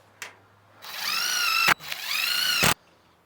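Power drill driving into the body of a forgotten K10 truck, two sustained whining bursts of about a second each with a brief pause between, close and loud with no talking.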